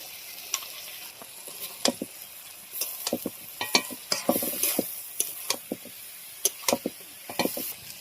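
Banana flower and potato are dry-sautéed in spices and sugar without water, with a soft sizzle punctuated by repeated sharp scrapes and clicks of a spatula stirring in the pan, close and fairly quiet.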